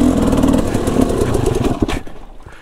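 A KTM dirt bike engine runs with a loud, close, rough mid-pitched drone that holds steady and then cuts out abruptly near the end, leaving quieter rumble.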